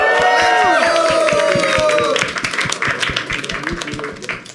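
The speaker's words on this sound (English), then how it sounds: "Let's clap." A small group clapping for someone, quick irregular claps rising through overlapping talk and music that cuts out midway, the clapping continuing under chatter.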